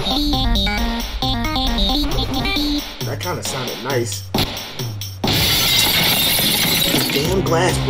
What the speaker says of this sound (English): damn glass breaking.